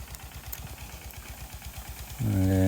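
A big Hindustan tractor works a field under full load with a steady, pulsing diesel chug that swells sharply louder near the end.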